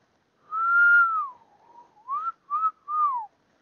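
A single person whistles a short tune of Dixie, a few sustained clear notes and quick phrases, close and alone with no other sound.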